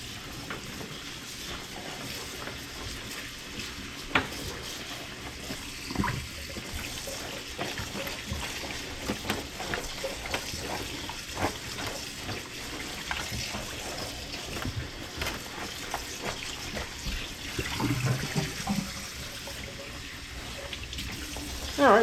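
Tap water runs steadily as rain gear is rinsed beneath it, a constant hissing stream with faint splashes and occasional handling sounds, fairly close.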